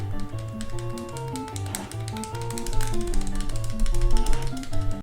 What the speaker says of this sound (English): you'd start just smashing A as fast as you can.